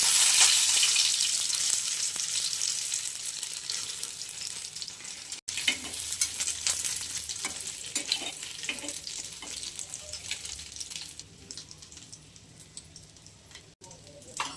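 An egg sandwich fries in a pan, its bread coated in egg, giving a continuous close sizzle that is loudest at first and slowly thins out, with light scraping and crackles and no talk.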